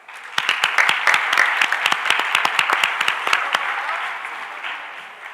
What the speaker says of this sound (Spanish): Un aplauso, dale.